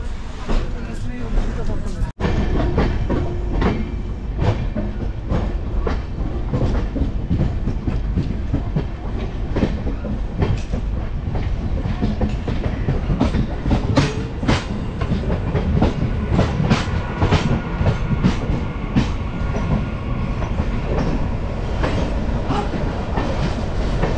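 The Kanchanjungha Express, running on a brand-new 2025 LHB rake, rolls along the rails with a steady loud rumble and rhythmic clickety-clack heard from inside a mostly empty coach.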